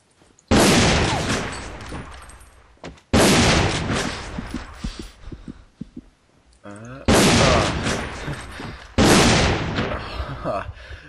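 Pistol gunfire in the online shooter A.V.A during a one-on-one match: four loud, sharp shot bursts with ringing tails and short quiet gaps between them, close and in the foreground, with no talking heard.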